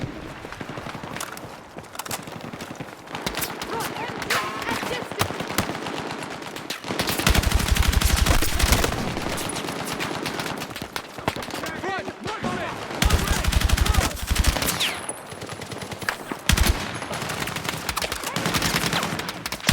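Cover gunfire in a Battlefield 6 campaign battle, dense rapid machine-gun bursts and rifle shots rattling almost continuously, with heavier booming volleys, loud and close amid combat noise.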